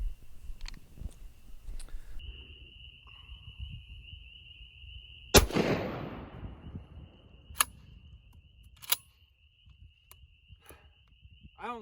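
A shotgun fitted with an extra-long full turkey choke fires a 3.5 inch turkey load at a concrete block outdoors. A single sharp report midway decays into a short rumbling tail over a quiet background with a steady high whine and a few scattered clicks.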